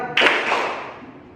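A classroom of students claps hands together in a rhythmic clap game, a sharp loud burst of many hands at once followed by a fading ringing tail.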